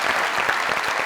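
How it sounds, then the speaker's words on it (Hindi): Loud studio audience applause at an Eid comedy talk show, a dense steady burst of clapping with no talk over it. "जोरदार ताली।"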